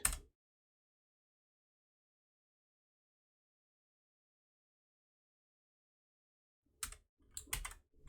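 A short burst of clicking keystrokes at the start, long silence, then a few quick clustered key taps near the end.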